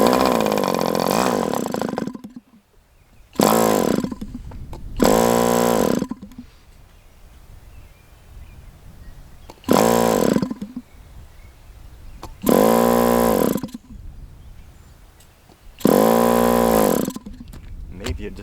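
An HP 61FS engine running on swamp juice fuel fires in repeated short bursts, roaring loudly for about a second at a time with a rising buzz, then cutting out to near silence between runs, six times in a row.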